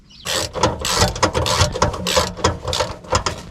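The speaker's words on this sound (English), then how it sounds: "Tightening up the bolts." Ratchet wrench clicking rapidly in close, continuous bursts while tightening bolts on a Mobilvetta motorhome's spare wheel carrier, loud and alone with no talk.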